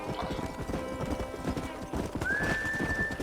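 Horse hooves clip-clop steadily at a walking rhythm in Red Dead Redemption, close and moderately loud, with a horse whinny and a rising whistle-like tone near the end.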